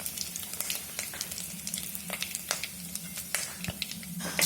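Fenugreek seeds and curry leaves crackle in hot oil for a Kerala fish curry, a steady busy sizzle with scattered sharp pops throughout, close and fairly loud with no talking.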